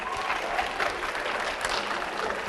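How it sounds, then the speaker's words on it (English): A hypnosis show audience at a high school applauds steadily, a dense wash of clapping that holds at an even level throughout without a break. "give them a round of applause."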